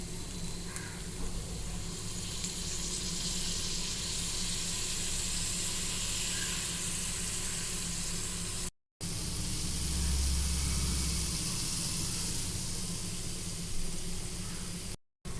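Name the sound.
masala sautéing in a pan for vegetable biryani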